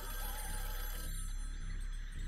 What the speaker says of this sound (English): Why is their phone ringing?